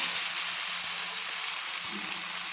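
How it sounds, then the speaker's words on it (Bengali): Ground spices fry in oil while being stirred. A dense, even sizzling hiss fills the pan without pause, close and moderately loud, with faint stirring touches underneath. "দেখুন তেলের মধ্যে আমি কষিয়ে নিচ্ছি, মশলাগুলোকে আমি তেলের মধ্যে ভালো করে কষিয়ে নিচ্ছি।"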